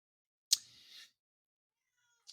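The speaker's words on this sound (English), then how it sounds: "Okay, I'm going to let out the cat real quick." A domestic cat gives one short, fairly loud meow in a quiet indoor room, followed by a faint second cry a moment later.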